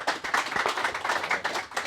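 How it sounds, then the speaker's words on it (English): Applause from a small gathering honouring two men at a promotion event, a dense, steady patter of many hands clapping for just under two seconds with no voices. "Let's have a round of applause for both of these guys"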